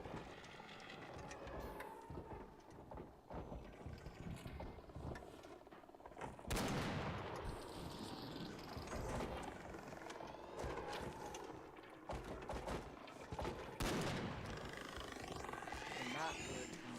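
Gunfire in the video game ARC Raiders, repeated loud shots and bursts ringing out over steady mechanical noise, with two sharp heavy blasts standing out.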